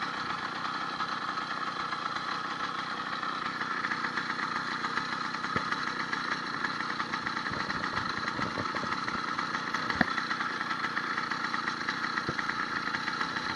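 An 80cc motorized bicycle engine runs steadily, giving a continuous, buzzy two-stroke drone with little change in loudness, heard up close with no voices.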